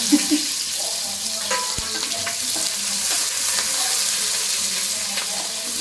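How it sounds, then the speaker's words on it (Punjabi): Chopped onions and cumin seeds dropped into hot oil, a steady dense sizzle and crackle that stays loud and continuous throughout, with a faint clink near the middle and no speech. "ਤੇਲ ਤਾਂ ਹੋ ਗਿਆ ਆ ਹੁਣ ਇਹਦੇ ਚ ਪਾਉਣੇ ਆ ਪਿਆਜ਼ ਤੇ ਆਹ ਪਿਆਜ਼ਾਂ ਦੇ ਨਾਲ ਹੀ ਮੈਂ ਜੀਰਾ ਪਾਤਾ"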